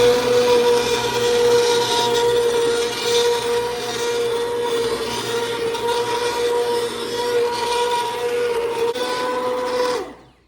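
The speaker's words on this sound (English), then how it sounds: "now I want to blend it all up with my immersion blender" Steady motorized whirring of an immersion blender blending homemade tomato soup, running continuously for about ten seconds, fairly loud and close, then cutting off abruptly at the end.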